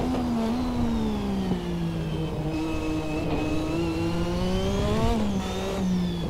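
A Lotus 98T turbo Formula 1 race car engine holds a steady, loud, high-pitched wail under about 5 bar of boost, pulling uphill in third and fourth gear as the rear tyres break traction, with rising and falling pitch shifts.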